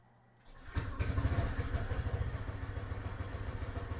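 A 2022 Lifan KPV 150 scooter engine starts after an oil change, cranking briefly before catching, then settling into a steady, close, pulsing idle with a slight rattling chug.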